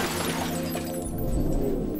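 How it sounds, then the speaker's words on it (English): Glass of a car's front driver's window shatters under a police baton strike during a roadside arrest, a loud smash with crunching debris and a low rumble continuing throughout. "I then smashed the front driver's window with a police baton."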